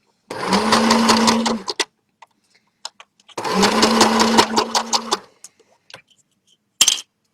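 A sewing machine runs in two rapid stitching bursts of about one and a half seconds each, close by, with small clicks and handling noises between them.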